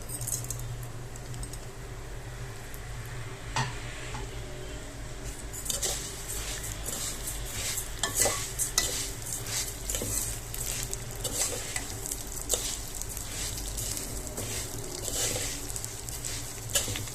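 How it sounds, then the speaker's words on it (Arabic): Rice and vermicelli stirred together in a pot, a steady scraping and sizzling with frequent clicks and light clatters of the spoon, close and moderately loud throughout with no talk. "طبعا قلبنا الرز كويس مع الشعريه"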